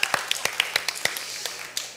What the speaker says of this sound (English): Round of applause for Douglas